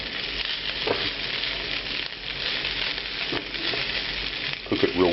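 Boar meat cooking in a very hot pan sizzles loudly and continuously, a dense crackling hiss with a couple of brief spatters near the end, no voices.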